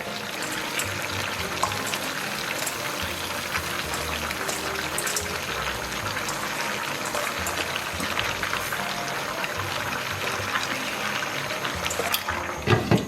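Pork belly with sauerkraut and potatoes simmers in a pot over low heat for an Inner Mongolian braise, giving a steady, close bubbling and sizzling wash of liquid that runs without pause and with no voices.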